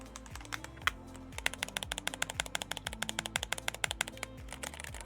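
Rapid, crisp key clicks from a brand-new computer keyboard, typed in quick bursts close to the microphone over a steady low hum.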